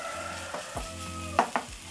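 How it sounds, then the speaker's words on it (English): Garlic and ginger frying with onions in a pan for a noodle and vegetable dish, a steady low sizzle broken by a few sharp scrapes and knocks as the mix is stirred, close and fairly quiet. "Stir in and let the garlic cook until fragrant."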